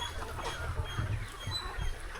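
Native village chickens cluck and murmur on a farm holding about 2000 birds of both small and large breeds, a soft continuous flock chatter heard close with no talking.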